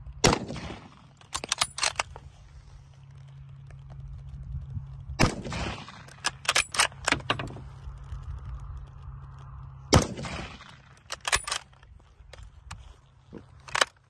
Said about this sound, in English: Overall, smooth shooting rifle.